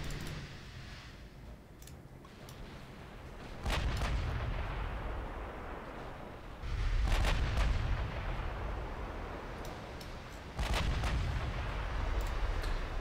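Naval guns firing in a warship video game set in a dreadnought-era Spanish campaign: deep booming salvos at intervals of a few seconds, each followed by a long low rumble, heard without talk.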